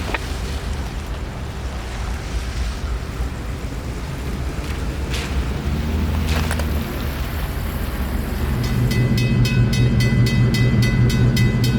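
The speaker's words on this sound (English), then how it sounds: "It is now that A782 hooks up to the rest of his train and is ready to head back to Winston" Train A782 rumbles loudly at Vitis Junction as it hooks up to its cars, with heavy low engine drone, a few sharp coupling clanks, and a rising idling engine pulse near the end.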